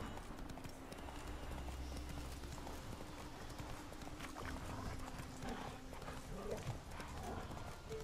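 Geralt's horse Roach trots through The Witcher 3, a steady, moderately loud clip-clop rhythm under soft ambient music, with a voice briefly over it.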